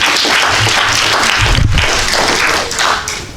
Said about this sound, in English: Give a round of applause for Sister Earlice Taylor.